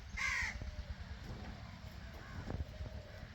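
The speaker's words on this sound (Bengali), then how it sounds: "এই কাকগুলা খাওয়ার জন্য বসে আছে" A single harsh crow caw near the start at a deer feeding spot, then quiet outdoor wind and faint rustling noise.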